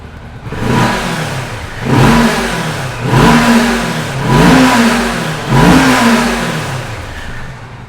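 A Kawasaki Vulcan S cruiser motorcycle engine is revved four times in a steady rhythm, each throttle blip rising loudly from idle and falling back, close by with no talking.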